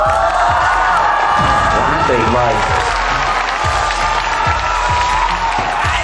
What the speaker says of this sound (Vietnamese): xứng đáng riêng vỗ tay là vỗ tay cho bốn bạn trước